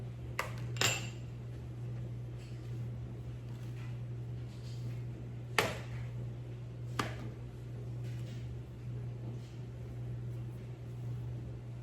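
Two ripe, brown-speckled bananas being placed into a mixing bowl for banana bread, a few faint knocks and taps against the bowl over a steady kitchen hum.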